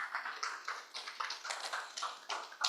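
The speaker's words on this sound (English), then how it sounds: "A round of applause for Dr. Oba, please." An audience at a Comercio Partners H2 2024 outlook session applauds: scattered, fairly faint claps come in uneven bursts, as if from a distance.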